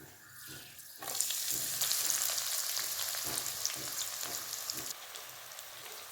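Onions hit hot oil already holding cinnamon and cloves, a sudden loud sizzle that rises after a quiet start, crackles steadily close by, then eases slightly near the end.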